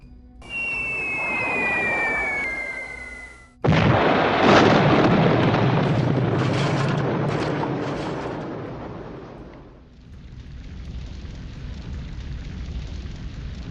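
B-17 bombers drop their bomb load in a game: a descending whistle gives way to a sudden loud explosion, a long roaring rumble that decays over several seconds, then a lower lingering rumble.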